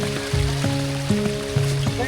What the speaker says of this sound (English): Have to be careful here because of this little waterfall.